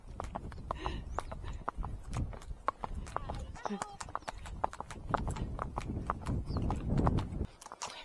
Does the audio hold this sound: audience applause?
no